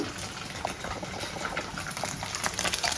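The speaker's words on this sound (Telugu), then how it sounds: "అలాగే ఇంకో ఆయి ఇక్కడ వేయించుతాను" Homemade paneer pieces frying in hot oil in a home kitchen, a steady loud sizzle and bubbling with faint crackles throughout.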